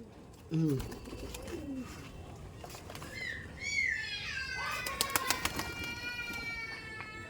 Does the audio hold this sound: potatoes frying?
no